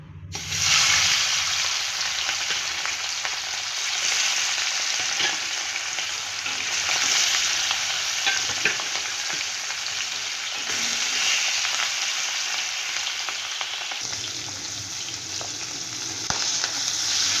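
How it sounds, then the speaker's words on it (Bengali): Rohu fish, rubbed with salt and turmeric, frying in hot oil: a steady, loud broadband sizzle with crackling spatters that continues without pause, with no talking over it. "এবার এই মাছটাকে ভেজে নেব।"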